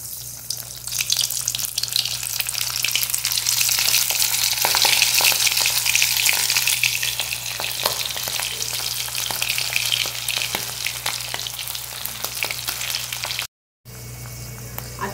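Squid pieces fry in hot oil with a loud, steady sizzle and crackle that swells early and then settles. A brief silence comes near the end before the frying resumes.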